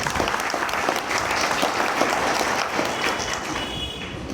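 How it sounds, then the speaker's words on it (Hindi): An audience at a Chhattisgarh Jan Kranti gathering breaks into dense, continuous applause, many hands clapping at once in a steady wash that fades slightly toward the end, with no talk over it. "तो आप सभी के लिए तालियां।"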